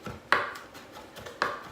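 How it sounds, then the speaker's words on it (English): A knife chops garlic on a cutting board with a rocking motion, giving a few sharp, close knocks at an uneven pace, two of them noticeably louder. "I will chop the garlic"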